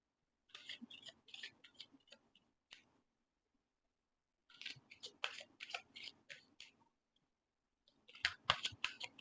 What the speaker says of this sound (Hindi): पहले हम शफल कर लेते हैं